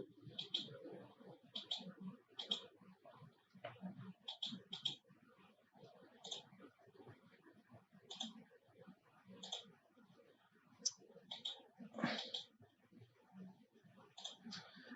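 Computer mouse clicks during a FEMM software tutorial, a steady run of sharp, close clicks spread through the stretch with someone talking over them throughout.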